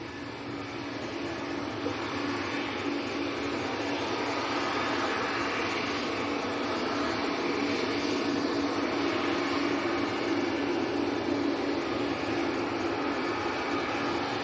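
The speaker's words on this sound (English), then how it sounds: "This is Air France to Paris Charles de Gaulle, Airbus A220." Air France Airbus A220 bound for Paris Charles de Gaulle at a windy Manchester Airport, a continuous loud, even engine roar with no break, carried on gusty wind.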